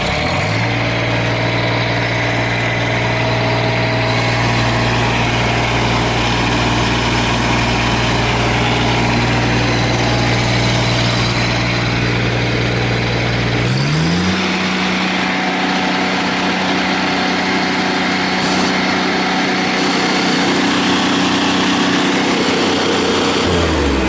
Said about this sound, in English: let me just go ahead and start this thing up for you guys real quick. I got it stuck in low idle